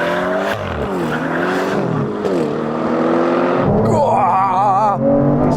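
An Aston Martin V12 car accelerates hard in a drag race, its engine note climbing in loud rising sweeps, dipping at each gear change before surging again, close and continuous.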